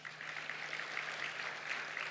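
Congregation applause at a Sunday church service, a steady, even wash of many hands clapping that holds throughout, moderately distant with a low steady hum underneath.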